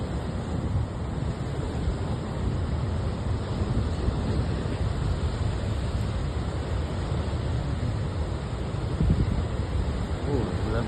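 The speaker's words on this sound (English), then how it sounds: "Oh, lovely waves." Ocean waves break at Morgan Bay beach in a steady, continuous roar of surf, mixed with buffeting wind on the microphone.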